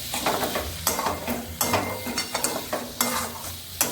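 Mashed katla fish stirred and fried in a pan, a steady sizzle under repeated sharp scraping taps of the spatula, close up with no talk.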